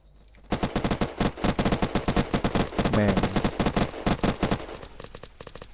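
Rapid automatic gunfire in the video game Unturned, sounding as dense bursts of repeated shots that run for several seconds and then stop.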